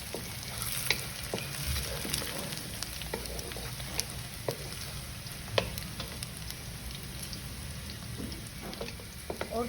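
Onions sizzle and crackle steadily in hot oil, with scattered pops and occasional stirring scrapes, close and continuous, no voices.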